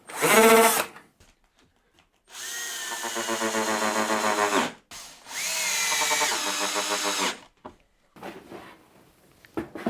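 A power drill runs in several bursts, with a brief high whine first, then two longer pulsing runs as screws are driven into a wooden cabinet frame, followed by small clicks.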